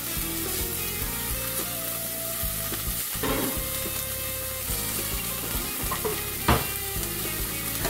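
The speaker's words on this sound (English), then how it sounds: "the pot is already hot, so I'm going to toss in my onion" Onion frying in oil in a hot pot, a steady close sizzle with repeated scraping stir strokes and clinks of the utensil against the pot throughout.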